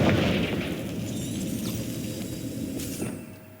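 The Confringo fire spell in the video game Hogwarts Legacy blasting rocks, a loud explosive boom that decays into a rumbling crackle over a few seconds, heard alone without speech.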